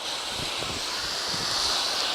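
A steady rushing hiss of water spray from an HFT nozzle rinsing an engine compartment, continuous and fairly loud close by with no breaks.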